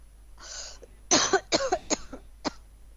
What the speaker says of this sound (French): Toi, arrête de tousser,